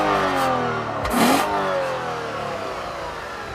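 A 2014 Lexus IS350 F Sport with all-wheel drive and a six-speed paddle-shift transmission accelerates hard. Its engine note climbs in a smooth rising rev and then holds a strong, steady drone, loud and close, with no talking.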